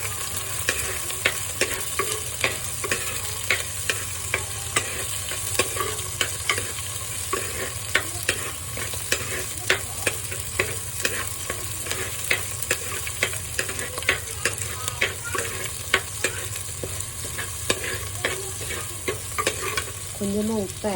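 Small onions frying in oil are stirred continuously in a pan, a steady close sizzle layered with frequent scraping and clinking spoon strokes throughout, loud and alone without talk.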